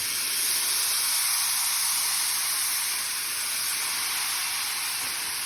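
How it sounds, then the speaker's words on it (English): A loud, constant sizzle hisses as wine deglazes a hot pan for lobster risotto, bright and steady, gradually easing off slightly with no talking over it. "When you hear that sizzle, you know that the alcohol is starting to evaporate a little bit"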